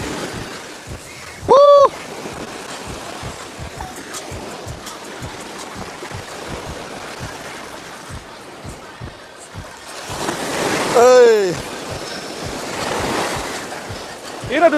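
Sea waves wash continuously onto a shore, mixed with wind buffeting the microphone, while a nearby voice briefly calls out twice over the surf.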